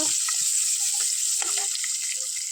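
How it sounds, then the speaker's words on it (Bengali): Ingredients frying briefly in hot oil in a wok, a continuous bright sizzle with a few scattered clinks and scrapes over a short stretch, no talking. "এগুলা অল্প ভাজা করব"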